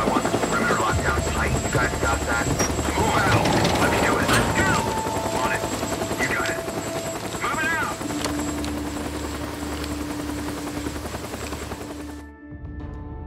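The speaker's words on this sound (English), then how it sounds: "It's a Nero chopper." A NERO helicopter from the video game Days Gone hovers with a loud, continuous rotor roar and engine whine, mixed with game effects and voices, before cutting off abruptly near the end.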